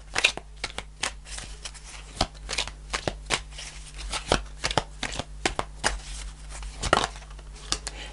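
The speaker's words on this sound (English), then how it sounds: "I'm going to pull a fairy card to finish off the reading." A deck of fairy oracle cards being shuffled, with crisp riffling bursts and repeated snaps that come close and moderately loud over about eight seconds, with no talking.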